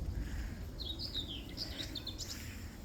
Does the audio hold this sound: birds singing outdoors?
yes